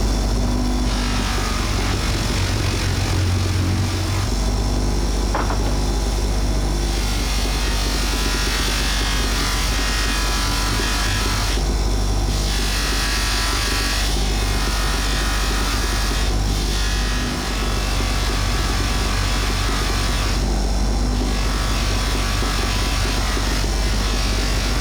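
A bike part is polished on a soft buffing wheel charged with fine white paste, the motor droning loud and steady throughout with the pitch shifting slightly as the part is pressed against the wheel.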